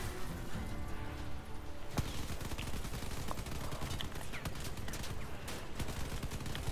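Guns fire continuously in the vehicle combat game Crossout, a dense rattling barrage of rapid machine-gun bursts and heavier cracks layered over a constant mechanical roar.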